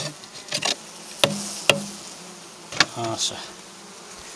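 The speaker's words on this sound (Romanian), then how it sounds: "aici aproape să vadă albinile astea" Honeybees buzz around a wooden hive readied for winter, a steady soft hum broken by sharp knocks and clicks as frames are handled, with a brief spoken word.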